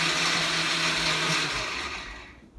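A blender whirs loudly as it blends milk and berries into a smoothie, then the motor winds down and fades toward the end.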